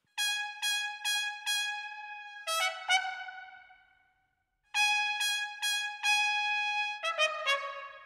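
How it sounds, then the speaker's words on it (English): A sampled trumpet from the free Sine Player Rotary big band horns library plays a melodic line of short, bright staccato notes, a few held tones and a quick run. It pauses briefly mid-phrase and plays alone and close. "And the trumpet I'm using right here has 7 different articulations that you can trigger"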